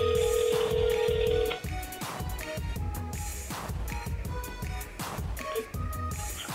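A phone call rings out with a steady ringback tone for about a second and a half, set over busy background music with a beat that continues after the tone stops.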